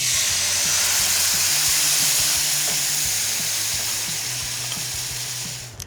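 Garlic and ginger fry in a pan with a loud, continuous sizzling hiss, broken by rhythmic scraping knocks of stirring, gradually easing toward the end without any speech.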